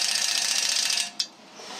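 A ratchet working on the spring-loaded latch of a John Deere quick hitch, giving a steady close clicking buzz for about a second before a sharp snap and then quiet.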